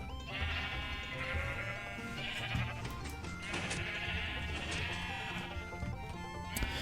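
Sheep in Minecraft bleat in several wavering calls one after another, loud and close, over faint game background sound.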